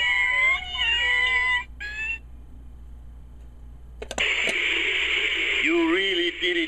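Cats meow as a sound effect in the Big Red Button game, several sliding, overlapping mews in a cluster, then a brief silence before a louder burst of meowing with a bright electronic tone.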